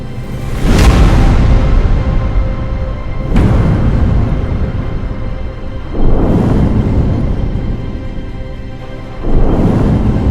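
Enormous Big Bang explosion effect: four deep rumbling booms about three seconds apart, each a sharp onset swelling into a long, loud roar that stays sustained between hits, with no voices.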